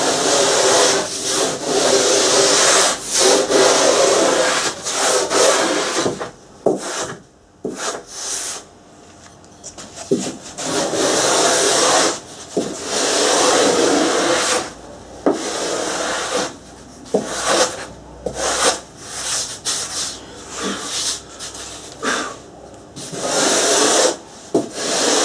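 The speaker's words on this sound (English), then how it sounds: "Once again, going to take the stringer down." A surfboard being hand-shaped, with a rasp or sanding block taking down the wooden stringer in repeated loud scraping strokes broken by short pauses, close up and with no voices.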